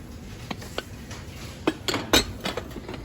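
Scattered clinks and knocks of colourful ceramic cooking pots being handled and touched together, a few sharper clangs near the middle, with quiet background noise.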